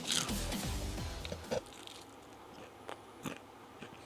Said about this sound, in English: These are some crunchy onion rings.